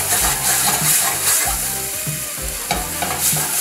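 Shrimp for fajita tacos sizzle loudly in a hot pan, a dense continuous crackle with rhythmic scraping as they are stirred and moved around, close up and alone.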